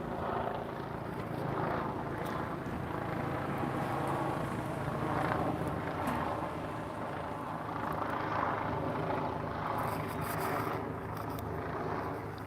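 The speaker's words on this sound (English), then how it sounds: "Got the chopper up here." A helicopter hovers overhead at the Broadview Detention Center, its faint, steady rotor drone blending with wind noise for the whole stretch.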